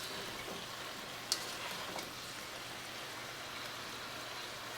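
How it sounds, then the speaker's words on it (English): Vegetables, including yellow squash, sizzling in a pan for a tofu stir-fry, a steady soft hiss of frying with a brief clink near the start. "Continue to let your veggies cook about 5 minutes or so before you start to add your tofu."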